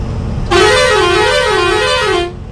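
Truck air horn blasting on a highway, one loud sustained wavering honk of about two seconds over road and engine rumble.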